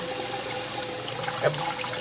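Cold water runs from a tap in a steady, fairly faint trickling flow, with a brief splashy burst partway through and no voices.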